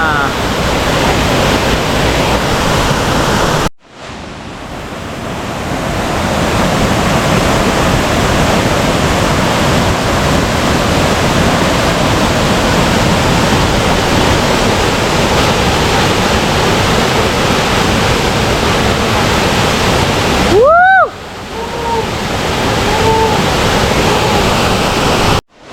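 Uma Anyar waterfall in Bali roars as a loud, steady broadband rush of falling water, nearby and constant, broken by two short cuts; a brief high whistle-like tone briefly rises over it near the end.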